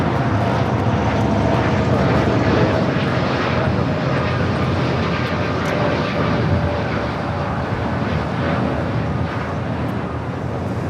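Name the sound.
American Airlines jet airliner taking off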